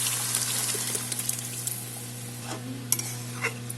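Pre-boiled mung dal goes into a pan of fish heads already frying, bringing a bright sizzle and watery stirring scrapes over a steady low hum, with a few louder splashes near the end.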